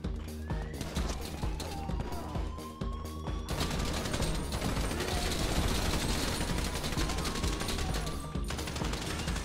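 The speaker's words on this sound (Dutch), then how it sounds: "Er wordt met 3 man op hem geschoten." Sustained gunfire aimed at a player in GTA V Online during the Casino Heist, a dense barrage of shots rattling on continuously over loud game ambience.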